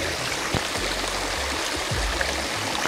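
A municipal square fountain in a small Lithuanian town, its water splashing and rushing in a steady, close wash of noise with no break, heard on its own without voices.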